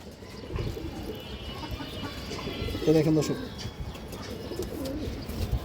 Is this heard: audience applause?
no